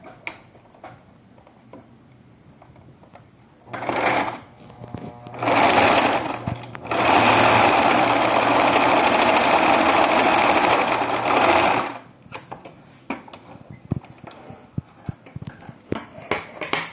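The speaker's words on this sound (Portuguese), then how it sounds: "eu vou passar uma costurinha na máquina mesmo, pra gente fechar essa abertura" Sewing machine stitching shut the opening of a furry plush cow pillow: several short bursts of close mechanical whirring, then a long steady run of rapid stitching, with quiet handling clicks before and after.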